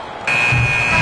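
End-of-quarter buzzer in the NBA 2K26 basketball video game, a loud, steady electronic tone that cuts in sharply after a brief moment and holds to the end, with faint crowd noise beneath.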